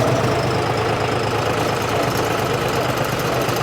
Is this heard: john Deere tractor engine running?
yes